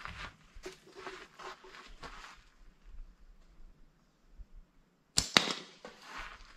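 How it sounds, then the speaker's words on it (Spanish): A slingshot's rubber bands snap sharply twice near the end, a quick loud crack after a stretch of faint rustling and soft tapping. "A veces se puede escuchar un poco fuerte por el sonido de las ligas."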